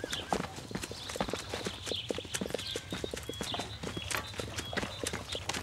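Horses' hooves clip-clop steadily and close by, a dense, uneven rhythm of hard strikes with faint jingling, continuing throughout without talk.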